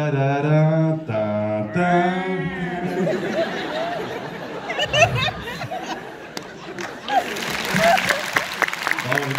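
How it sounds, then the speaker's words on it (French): Cinema audience at a French film premiere in Orléans, with someone speaking first and then applause and cheering building over chatter and laughter, growing dense and loud toward the end. "Allez, vous pouvez applaudir très fort avec vos amis."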